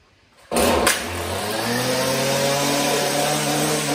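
A small two-stroke engine with a bogging, no-power fault starts abruptly and settles into a steady, loud, buzzing idle close by, with no talking.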